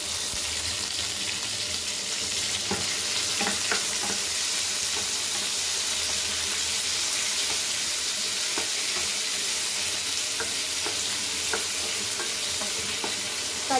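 Garlic and curry leaves fry in hot oil for sambar, a steady broadband sizzle running throughout with occasional faint stirring clicks and scrapes, close and alone with no voices.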